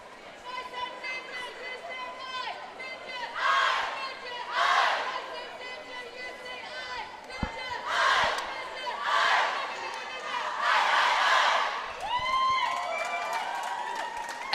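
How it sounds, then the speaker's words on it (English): Crowd cheering and shouting at a Roller Derby World Cup 2025 match between Scotland and Austria, rising in several loud waves over constant arena chatter, with whistling and distant voices in the background. "Excellent cheering there"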